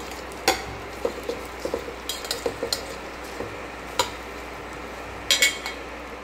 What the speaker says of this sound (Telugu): కొంచెం దీంట్లో ఆయిల్ వేసుకొని ఇందులో మనము పచ్చిమిర్చి కూడా ఫ్రై చేసుకున్నాము